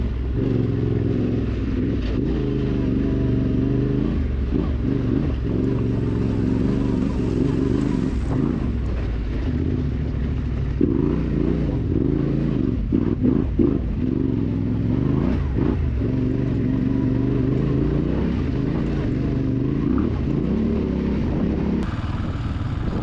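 An adventure motorcycle on a Nevada dirt trail, with a steady engine drone and uneven clattering rattles from the bike running continuously up close, with occasional bumps and shifts in engine pitch.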